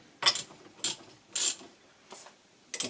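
A ratchet wrench clicks in short bursts while tightening the accessory belt tensioner pulley on a Citroën C4, with five separate ratcheting strokes spaced by brief pauses, close up and with no talk.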